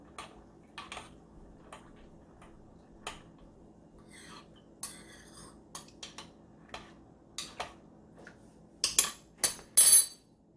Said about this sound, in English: Just kind of so we stir it up, everything gets mixed in.